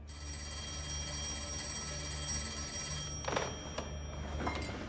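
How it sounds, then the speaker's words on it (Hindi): A telephone rings steadily with a continuous bright bell tone, moderately quiet, then a few sharp clicks and knocks near the end as the ringing carries on. "आपको फोन उठा लेना चाहिए"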